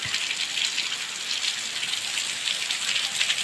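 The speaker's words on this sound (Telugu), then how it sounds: "చూడండి వర్షం ఎలా పడుతుందో మా ఊర్లో" Steady, dense rainfall pouring down in a village, with a constant hiss, loud and close, no voices.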